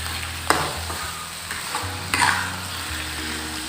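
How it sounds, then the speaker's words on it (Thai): Frog being stir-fried with curry paste in a pan, loud close sizzling with repeated scraping strokes of a spatula against the pan and a steady low burner rumble underneath. "คนให้เข้ากับพริกแกง นะครับ"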